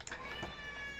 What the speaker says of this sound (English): my cat decided he wants to just whine for attention